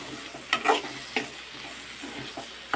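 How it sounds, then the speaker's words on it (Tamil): Chili, coriander and turmeric powder stir-fry in a pan with a steady sizzle, broken by several scraping stirs of a spatula, close and alone with no talk. "இப்போ நல்லா வதக்கி விட்டுக்கலாம்."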